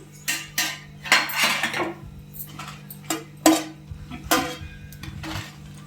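Pieces of fried mutton being moved onto another plate, with sharp metal clinks and scrapes of a utensil against a pan and plate in a quick irregular series, close and clear over a low steady hum.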